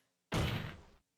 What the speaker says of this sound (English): Oh, we did the table slam?